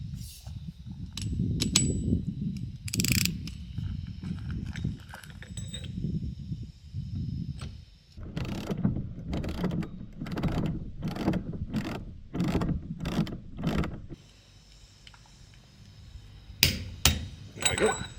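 A wrench tightens a bolt on a Flexofold three-blade folding boat propeller, making a series of ratcheting clicks and metallic knocks in a steady rhythm, close by, with someone talking at times over the work.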